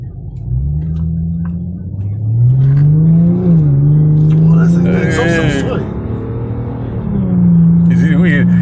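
Infiniti G35 exhaust rumbling and revving up and down close by, a deep engine tone rising and falling several times, with people talking over it.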